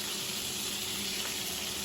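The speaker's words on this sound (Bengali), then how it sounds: "তেলের ভিতরে মাছগুলোকে ছেড়ে দিচ্ছি।" Boal fish, rubbed with turmeric, salt and lemon, sizzles steadily in hot oil spiced with cumin and coriander, a close, even hiss of frying with no voices.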